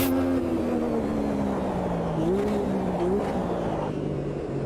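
A loud turbo racing car engine in Automobilista 2 at Road America drones steadily, its pitch climbing and swooping as it revs up under boost, with no talking.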